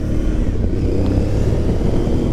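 An Aprilia Tuareg 660 motorcycle pulls hard in third gear on a sunny day, its engine a loud, close, steady throaty drone with dense low pulsing and no break or pause.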